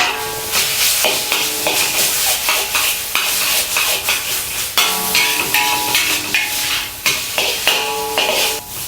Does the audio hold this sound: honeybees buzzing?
no